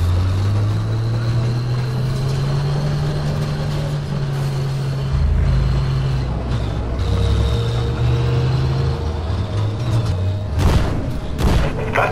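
Tank battle in the Battlefield V campaign: a steady low engine rumble runs throughout, broken by deep booming explosion hits, with a sharp crack of impacts near the end.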